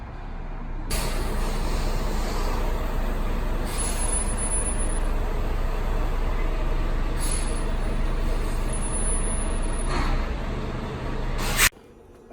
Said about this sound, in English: The truck is here.